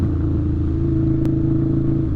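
Harley-Davidson V-Rod motorcycle with open exhaust pipes, engine running steadily with a loud, continuous low rumble that holds close and even throughout, no voices over it.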